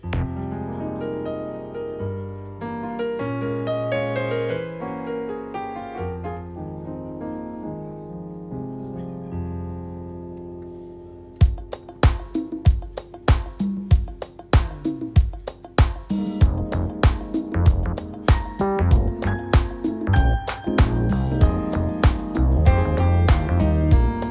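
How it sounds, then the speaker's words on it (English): Yamaha MX88 synthesizer music: a sustained chordal pad gives way to a bright, busy sequence of punchy repeated notes and rhythmic hits, loud and continuous. "All the sounds you're hearing are from the MX88."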